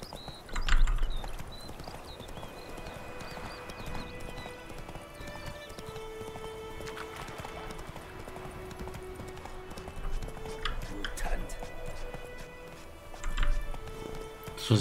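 Steady clip-clop of horse hooves runs throughout, with a horse neighing now and then over ambient game music and effects in The Witcher 3: Wild Hunt.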